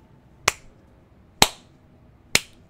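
Three sharp hand claps, slow and evenly spaced about a second apart, each standing alone against near silence, given mockingly during a World at War custom zombies game.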